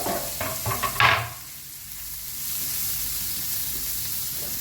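Finely chopped onions frying in a pan for palak paneer paratha, a few stirring scrapes and clatters at the start giving way to a steady soft sizzle and hiss.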